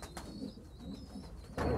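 Pigeons in a loft give a brief, soft cooing that is faint and close, with a slightly louder burst at the end.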